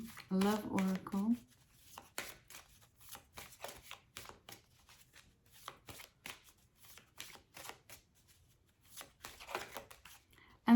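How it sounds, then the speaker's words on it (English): Oracle cards are shuffled close by in a run of soft, rapid riffling and flicking, with a brief voice at the start and near the end. "I'm gonna draw one last card because I did for Taurus. It's an oracle, love oracle."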